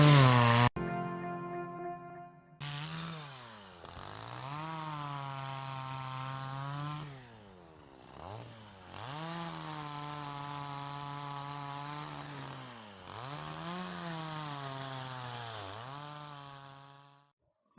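A chainsaw cutting firewood at a village woodpile runs in repeated loud revving bursts, each dipping briefly as the engine bogs in the cut and then climbing again, heard at moderate distance.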